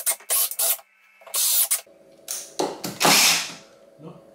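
A power driver sinks 4x50 Turbo Gold screws into floorboards in short bursts of whirring and grinding, separated by brief pauses, with a louder longer drive toward the end.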